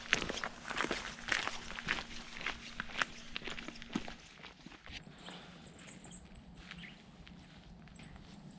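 Footsteps of two people walking past on an outdoor woodland path at Wheelton Plantation, a steady patter of steps that is clearest for the first four seconds and then fades into quiet ambient noise.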